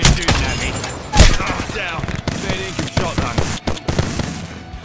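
Rapid bursts of gunfire in an Apex Legends match, sharp cracks and clattering volleys at close range, loud and irregular, with a voice talking in between.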